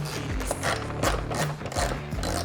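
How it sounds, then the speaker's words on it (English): A 5mm Allen head wrench working bolts loose on a Honda Transalp, with quick close ratcheting clicks in short repeated bursts and no voices. "all you're going to need for that is a 5mm Allen head wrench, and you're going to remove these two bolts"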